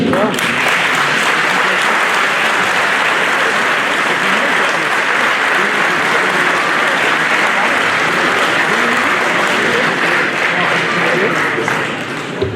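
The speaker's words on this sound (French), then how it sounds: "Donc on peut les applaudir." Loud, steady audience applause fills an award ceremony at a departmental Sainte-Barbe firefighters' celebration, dense clapping sustained without pause for over twelve seconds.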